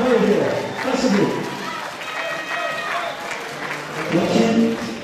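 An audience claps for the children's prince and princess of a Belgian carnival event, applause swelling and fading around a speaker's voice and crowd chatter.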